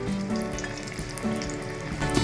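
Chicken cutlet coated in biscuit crumbs fries on a low gas flame, giving a steady soft sizzle throughout with a faint hum, close and fairly quiet, with no voices.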